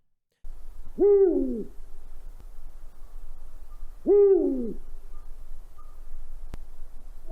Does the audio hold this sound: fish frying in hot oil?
no